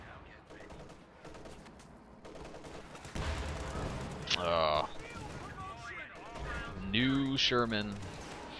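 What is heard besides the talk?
Priest self-propelled artillery firing in Company of Heroes 2 video game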